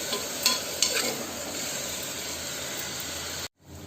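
Onions frying in a pan with a little salt added, giving a steady loud sizzle with a couple of stirring scrapes early on before it cuts off abruptly near the end.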